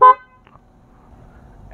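A short, loud motorcycle horn beep from a Suzuki GSX-S150 sounds once near the start, followed by near silence and a faint low rumble.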